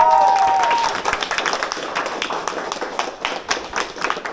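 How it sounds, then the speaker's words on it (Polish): Sustained applause from an audience at an author's evening after a band's performance, steady and fairly loud throughout, with crowd noise mixed in. "Tak więc jeszcze raz brawa dla wszystkich nas."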